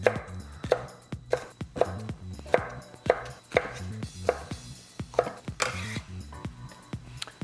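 A knife slicing a bell pepper into strips on a cutting board, about a dozen crisp, evenly spaced chops in a steady rhythm, close and clear with no talking.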